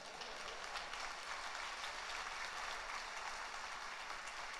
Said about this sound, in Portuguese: Quem crê, aplauda o Senhor aí, meu irmão